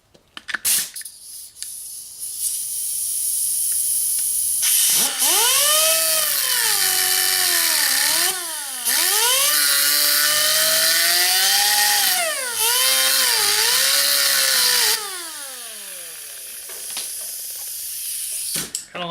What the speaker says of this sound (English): So now I'm going to go ahead and put the slits into the bolt.